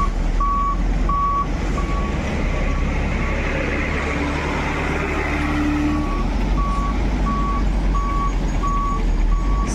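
A Volvo 450 truck backs up at the Kampung Rambutan bus terminal, its reversing alarm beeping in a steady, evenly spaced series over a loud, constant diesel engine rumble.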